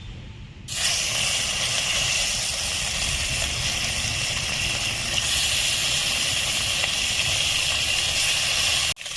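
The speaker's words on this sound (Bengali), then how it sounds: "এখন আমি মাছটা দেবো এই তেলতে।" Fish dropped into hot oil in a home kitchen sets off a loud, steady sizzle that starts abruptly and hisses continuously, close and alone, before cutting off at the end.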